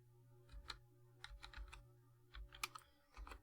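Keys clatter on an oversensitive computer keyboard that double-registers held keys during an operating-system install, in quick close clusters of light clicks separated by short pauses over a low steady hum.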